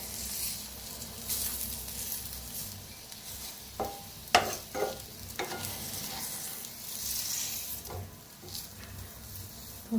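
Eggplant slices sizzle and fry in oil in a pan, a steady crackling hiss with a few sharper scraping stirs and turns partway through, close and fairly loud with no talking.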